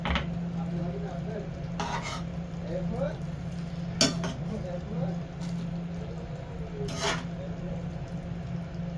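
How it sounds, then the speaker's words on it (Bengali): Fish being cooked bhuna-style in a pan, with a low steady sizzle and a few sharp spoon-against-pan clinks while someone talks over it. "আমি মাছগুলা বোনা করছি"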